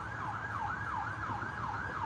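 Ambulance siren wailing in a steady rising and falling cycle as it crosses a bridge, moderately distant with faint road traffic beneath, no voices.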